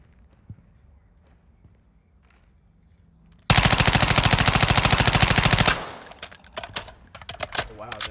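Sustained automatic gunfire from a weapon being test-fired for recoil in Modern Warfare II, a loud rapid burst of about two seconds standing alone after quiet game ambience, followed by scattered clatter and footsteps.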